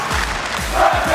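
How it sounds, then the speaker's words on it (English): Crowd cheering at a Rocket League esports match, a loud continuous roar with rhythmic bursts of chanting. "You can hear the crowd yourself"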